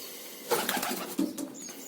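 Domestic pigeon wings flapping inside a loft nesting box, a short burst of close, papery wingbeats followed by a few scuffles.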